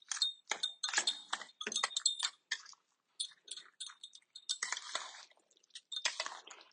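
Close, wet chewing and crunching while tasting freshly mixed guacamole made with lime and salt, in irregular bursts with short pauses and no talking.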